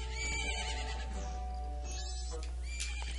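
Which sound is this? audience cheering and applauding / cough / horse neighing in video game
horse neighing in video game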